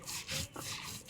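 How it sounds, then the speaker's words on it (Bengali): Lentils being ground by hand on a sturdy old grinding stone, heard as a close, steady rasping rub in repeated back-and-forth strokes with brief pauses between them. "এখন আমি একে একে সবগুলি আমি বেটে নেব।"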